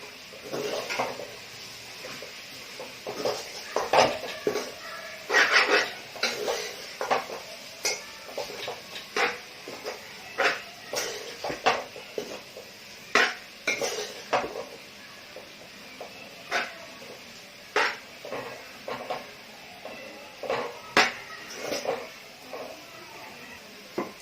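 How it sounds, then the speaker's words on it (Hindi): Vegetables tossed with chilli powder and crushed red chillies, mixed in a bowl with a long series of irregular clinks and scraping knocks, close and moderately loud, with no talking. "अब इसे अच्छे से मिक्स करते हैं"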